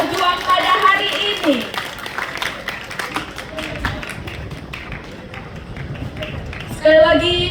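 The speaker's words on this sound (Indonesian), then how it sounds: "Supporter tolong berikan tepuk tangan yang meriah kepada masing-masing grup kita yang telah berjuang pada hari ini" Supporters at a school quiz competition final clap for the competing groups, a crowd of hands rising and fading under an announcer's voice and children's chatter.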